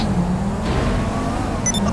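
Cars race in Grand Theft Auto V, with a steady engine drone and rumble through the whole short stretch and a few faint higher tones near the end.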